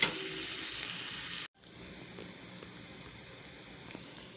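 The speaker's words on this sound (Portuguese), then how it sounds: "E aqui agora a gente vai colocar a carne" Dried salted beef hits a pan of softened onions and garlic with a steady, soft sizzle that cuts out briefly, then resumes as a quieter, crackling fry.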